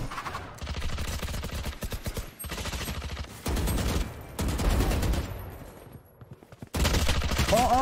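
Rapid gunfire from the Valorant video game, with dense bursts of shots that come in several loud volleys separated by brief pauses.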